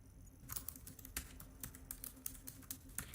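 A man types at a computer terminal in a video game, crisp irregular key clicks coming in quick bursts over a faint low hum, close and fairly quiet.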